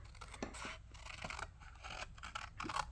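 Scissors snip along the outline of a paper honey jar, fussy cutting close against a black line; a run of close, crisp cuts and paper scratches repeats steadily with no voices.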